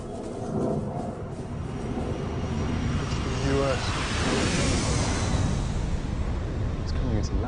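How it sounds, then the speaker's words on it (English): A Russian Blackjack stealth bomber comes in to land in an action film, its jet roar a broad, steady rumble that fills the scene from start to finish, with voices and music mixed underneath. "It's coming into land. No, it's not American, it's Russian. It's a blackjack stealth bomber."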